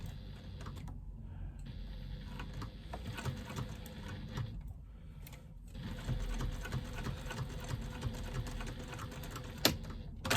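A sewing machine stitches down the card slots of a fabric wristlet in short runs of quiet, fast mechanical chatter with brief pauses, near and fairly soft with no voices.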